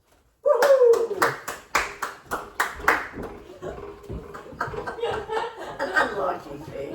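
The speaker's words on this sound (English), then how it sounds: "And now, family and friends, I ask you to give a great big cheer for Mr. and Mrs. James Toula Peters." Wedding guests break into clapping and cheering at a ceremony, an abrupt loud burst of applause with whoops and laughter that fades into scattered claps and chatter.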